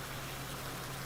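A pressure washer sprays water over a tractor in Farming Simulator 19, a brief steady rushing hiss with a low hum beneath it.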